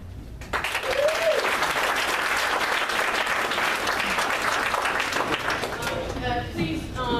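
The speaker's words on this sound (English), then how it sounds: "Please, we'd appreciate it if you hold your applause until they're done speaking" Applause from the audience at a Long Beach political forum rises sharply and holds as a broad, sustained clapping, then thins toward the end while a voice starts speaking over it.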